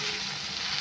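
A brief, steady hiss and sizzle rises from wild greens cooking with dal, onion and garlic in a pan while being stirred, with no talking.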